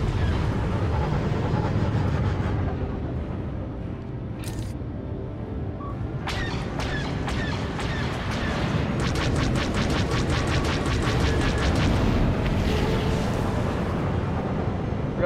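Starfighter cluster missiles bursting in Star Wars: The Old Republic space PvP, a loud continuous rumble of blasts with rapid crackling pops clustering in the second half.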